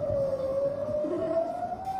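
An air raid warning siren in Israel wails steadily as a single sustained tone that slowly rises in pitch, heard faintly at a distance over low background noise.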